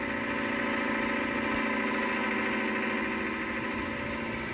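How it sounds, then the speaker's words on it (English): A Leyland 344 tractor with a 55 horsepower engine runs at a steady even drone, close and constant for several seconds, with a faint rattle of vibration and no voices. "the 55 horsepower tractor, pulling a Bamford Kverneland's 4-furrow 14-inch plough, an implement normally reserved for larger tractors."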